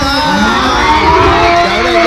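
Spectators at a primary school obstacle race cheer and shout in a loud, continuous roar of children's voices, close and lively.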